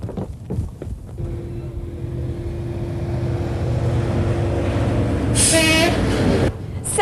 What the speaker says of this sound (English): Oh, look, here comes the tram.